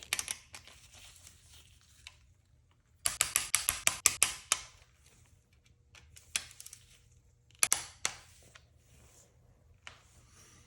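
Small Torx bolts on a BMW N20 engine are tightened with a ratchet, bursts of quick clicking separated by pauses, close and fairly faint.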